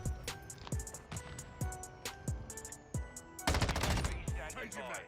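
M13 rifle gunfire in Call of Duty MWII rings out in repeated sharp bursts and single shots, loud and close, followed by a dense rapid string of fire near the end.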